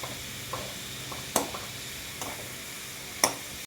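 Potato fry with green chillies stirred in a pan: scattered spoon scrapes and clinks over a faint, steady sizzle, quiet and close, with a few sharper knocks.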